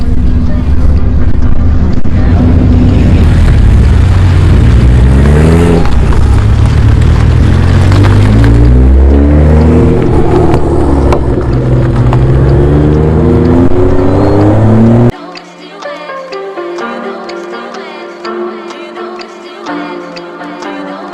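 A tuned BMW M235i with front-mount intercooler, intake, charge pipe and downpipe accelerates hard at a dragstrip, its engine note climbing through several loud rising sweeps before cutting to a quieter, steadier rumble with wind noise.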